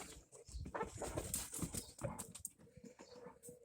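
Dogs move and whine close by indoors during an old-fashioned window repair, with scuffling, short whimpers and soft vocal bursts over several seconds.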